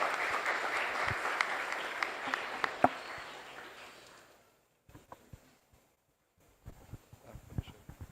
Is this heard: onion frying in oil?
no